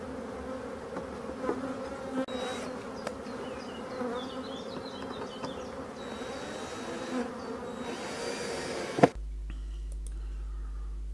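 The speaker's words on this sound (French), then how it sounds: "c'est vraiment une abeille sauvage, hein, une abeille locale, une abeille noire de Bretagne" Honeybees buzz steadily inside a hive, local wild black bees of Brittany. The hum is close and continuous, with a few faint clicks and rustles, and it ends abruptly after about nine seconds.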